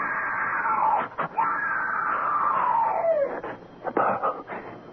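A woman in a radio drama lets out a long, loud, sustained scream that wavers and falls in pitch, broken by short gaps, with a few shorter cries at the end and no talk over it.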